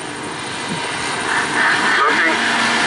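A flat track speedway motorcycle engine runs steadily in the distance at a race meeting, a continuous droning roar that swells slightly partway through, heard without any talk over it.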